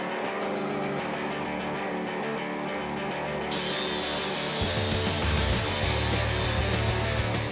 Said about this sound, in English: Al is cutting up a chunk of aluminium to make up a new tensioner mount